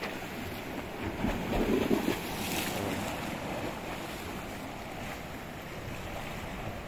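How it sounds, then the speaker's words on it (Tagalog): Strong sea waves breaking near a seaside boulevard in Sabang, heard as a continuous surf roar mixed with wind buffeting the microphone, with no voices. "malakas ang alon ngayon"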